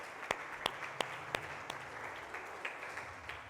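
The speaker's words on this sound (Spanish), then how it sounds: "¿Verdad que sí se merecen un aplauso todos los que hicieron eso?" A church audience gives quiet, thin applause, with a few distinct sharp claps standing out over a soft, scattered patter at a distance.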